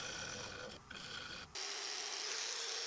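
A wood lathe cuts a butterfly box lid, working in toward the chuck with a steady raspy scraping hiss, briefly interrupted twice before resuming continuously and close.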